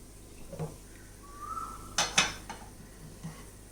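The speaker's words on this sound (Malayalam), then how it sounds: "ഇളക്കി കൊടുക്കാം" A spoon scrapes and clinks against a pan while masala is stirred for a jackfruit seed, mango and drumstick curry, with a few sharp metallic knocks and soft scraping in an otherwise quiet kitchen.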